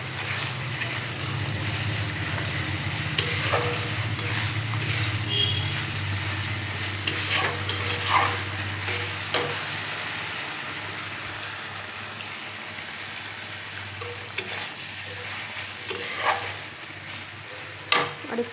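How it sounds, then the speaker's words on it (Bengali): Fried bitter gourd and potato are stirred in a spiced pan, with a soft continuous sizzle, recurring scraping strokes of a spoon and a steady low hum underneath. "এবার উচ্ছে আর আলু ভেজে রাখা দিয়ে দিচ্ছি। ভেজে রাখা উচ্ছে আলু আমি দিয়ে দিয়েছি। এবার আরও ভালো করে নাড়তে থাকবো।"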